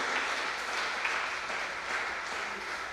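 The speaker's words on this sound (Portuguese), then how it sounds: "Você pode dar para Jesus uma salva de palmas então bem forte" A church congregation claps for Jesus during a live worship service, a steady wash of applause filling the room at moderate level with no pauses.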